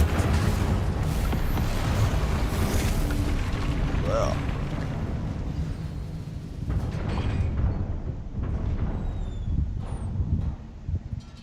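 Confringo explosive spell blasts in the game Hogwarts Legacy, heavy booming rumbles and crackling bursts that stay loud and continuous, with a voice talking over the battle noise.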